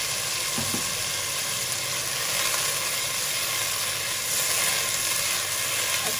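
Minced meat frying in a pan with ginger-garlic paste and salt, a steady broadband sizzle running throughout with a few faint clinks of stirring, close and fairly loud with no talking.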